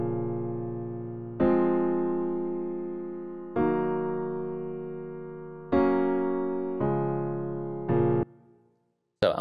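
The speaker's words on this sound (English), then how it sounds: "we just have a little piano MIDI track right here" Soft piano chords from a MIDI track in Ableton Live, played one after another, each ringing out and slowly fading before the next, ending with a short, abrupt cutoff.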